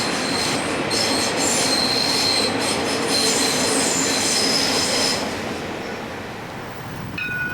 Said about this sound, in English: The metro connects the port of Piraeus with the city and Athens airport.